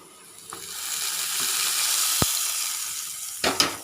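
Fried shallot tempering poured into a Kerala-style coconut fish curry: a loud sizzle rises and holds, broken by a sharp tap and ending in a couple of bright clinks.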